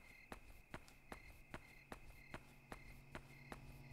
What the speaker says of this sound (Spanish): De momento se escucha un grillo.